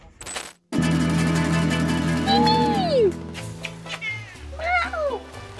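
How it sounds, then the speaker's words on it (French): Mimi, a house cat, lets out a pair of clear, rising-and-falling meows close by, the second one higher and quavering, while a person speaks over a steady background hum. "C'est le chat de la maison."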